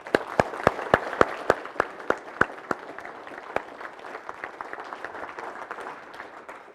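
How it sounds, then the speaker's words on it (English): Scattered hand claps at a conference, a handful of loud distinct claps up front building into a steady warm round of applause from the audience that carries on evenly throughout. "I would like to ask for a warm round of applause for our heroes behind the scenes"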